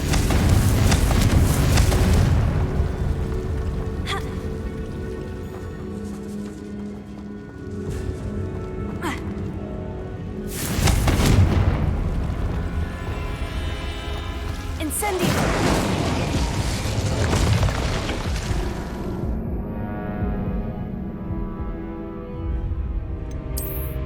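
Repeated Confringo blasting-curse explosions from Hogwarts Legacy: several loud broadband booms with sharp onsets at intervals over a dense game soundscape, each followed by a rumbling decay.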